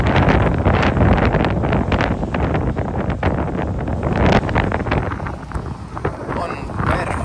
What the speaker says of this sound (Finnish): Täällä vähän tuulee.